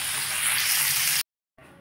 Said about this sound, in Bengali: বাকি মাছগুলো আমি ভেজে দিচ্ছি